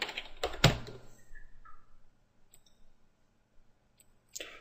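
Quick bursts of computer keyboard typing, a few close clicks and key taps in a quiet room, followed by silence and a last short flurry of clicks.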